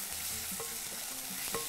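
Tomato paste sizzles and fries in a pan while a spoon stirs it, giving a steady close hiss with light scraping strokes and no talking.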